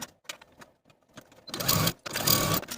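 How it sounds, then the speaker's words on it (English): A sewing machine stitches dart seams on a bias-cut Catskills jacket at a 3/8 inch seam allowance: faint clicks first, then two loud, steady bursts of stitching with a short pause between. "sew these dart seams at a 3/8 inch seam allowance"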